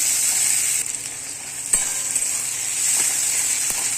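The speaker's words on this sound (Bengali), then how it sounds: "ভালো করে অনেকক্ষণ ধরে মশলাটা কষবো" Chopped tomato cooking down in ginger-garlic spice paste, sizzling steadily up close in a hot pan for a fish curry, with a few sharp clicks of a utensil stirring through the continuous frying hiss.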